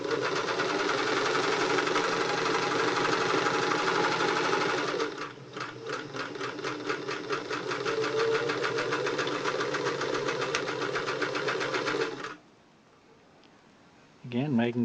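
A Singer 328K sewing machine runs steadily for about twelve seconds, its motor whirring with a rapid mechanical chatter of the needle stitching, loud and close, then stops before a brief bit of talk.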